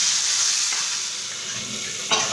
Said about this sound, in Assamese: এতিয়া আমি এনেদৰে 10 মিনিট সময় ভাজি থাকোঁ